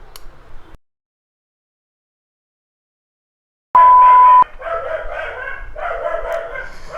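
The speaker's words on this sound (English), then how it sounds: "We have to wait for the dog to stop barking." A dog barks in a rapid series of sharp yaps after a short electronic beep, fairly loud and continuing to the end, with no one speaking.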